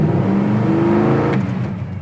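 A 1967 Plymouth Satellite with a cold engine pulls away under load, its engine note loud and close, with a rising whir as it accelerates before tapering off slightly at the end.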